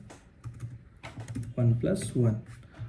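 Fingers tap out code on a computer keyboard in a quick, light burst of clicks, with someone speaking over the keystrokes.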